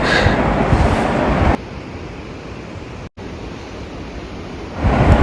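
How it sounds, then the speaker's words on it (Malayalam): Athirappilly waterfall, set among forest, roars with loud, steady rushing water that drops briefly in level and then swells again near the end. "വെള്ളത്തിന്റെ ഒച്ചയും കാര്യങ്ങളൊക്കെ കേൾക്കുന്നുണ്ട്"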